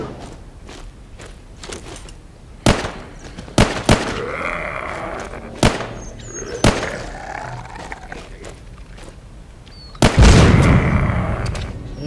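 In The Walking Zombie 2, gunfire cracks out in sharp scattered single shots over a low background, then an explosive barrel goes off with a heavier boom near the end, with no talking.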